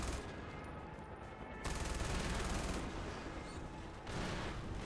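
Rapid MG42 machine-gun fire from the video game Far Cry 4 rattles in sustained bursts with short pauses between them, loud and dense.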